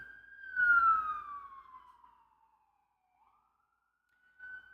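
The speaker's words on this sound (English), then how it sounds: "The siren was like really distracting. New York City sounds like an emergency." An emergency vehicle siren on a New York City street wails in a long falling sweep, fading into the distance and dropping away before a brief rising tone returns faintly at the end.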